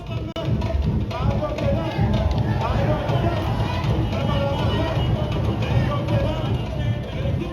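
A crowd fills the Constantine grounds at a stick fighting competition, a dense, continuous hubbub of many voices and movement at close range, steady and fairly loud throughout.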